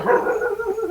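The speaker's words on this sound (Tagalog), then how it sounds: "Ikaw po ba yung tinatahol ng aso dyan sa kapitbahay?" A neighbor's dog barking at a cat gives a brief, mid-distance yelping bark that lasts under a second, with no talk over it.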